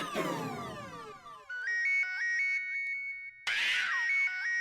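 A loud electronic ringtone plays a bright, repeating melodic pattern, pausing briefly before starting again.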